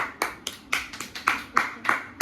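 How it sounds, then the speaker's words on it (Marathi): A family claps at home in a loose, fairly slow rhythm of about nine distinct claps, close by and moderately loud, with faint voices in the background. "टाळ्या टाळ्या टाळ्या."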